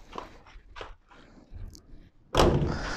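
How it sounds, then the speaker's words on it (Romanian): The door of a Dacia 1300 car shuts with a single solid thump near the end, after quieter handling noises and small clicks. "Ușile se închid ok."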